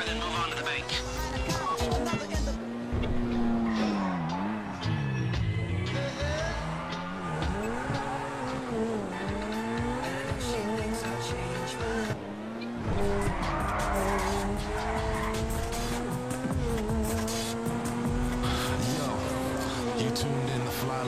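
A video game car drives with a revving engine whose pitch rises and falls, while tires skid and squeal repeatedly; people talk over it throughout.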